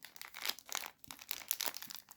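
A plastic bag of Celacake snack cake is torn and crinkled open in close, crackly bursts of crumpling that come in two main waves, with no talking.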